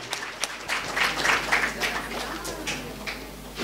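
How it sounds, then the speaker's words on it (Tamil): An audience at a Tamil literary festival debate stage claps to welcome the next speaker, a dense, steady patter of applause throughout, with voices mixed in. "நல்ல கைகளை தட்டி உற்சாகப்படுத்தி விடுங்க"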